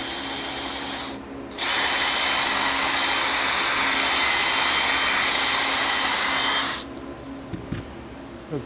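A power polisher buffs rubbing compound into the restored factory paint of a 1972 Yamaha CS5 motorcycle tank, spinning up into a loud, steady whirring whine for about five seconds before cutting off. A fan and air conditioner hum faintly underneath.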